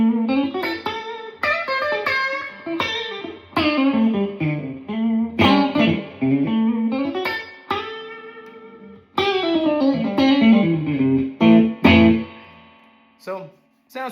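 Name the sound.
B-bender Telecaster-style electric guitar on single coil setting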